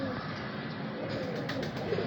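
A purebred breeder male pigeon coos softly and close by over a steady background hum, the low calls brief and repeating.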